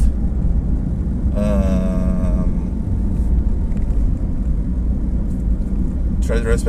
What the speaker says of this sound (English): The car passing in my front